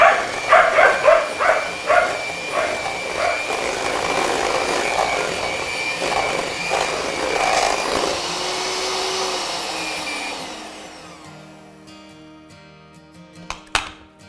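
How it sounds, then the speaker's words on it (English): A hand mixer whirs steadily while mashing homemade guacamole, a loud motor drone, with a dog barking in sharp repeated bursts at the start; the motor winds down near the end. "I'm just going to use a hand mixer"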